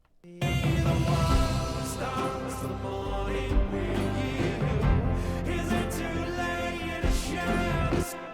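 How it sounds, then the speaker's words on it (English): A crunched, distorted bass from Spitfire Labs' Foghorn Brutalizer hits hard under a dense final chorus of an indie song mix, sustained and loud with full band and no talk. "like crunched out bass sound that hits strong and goes away."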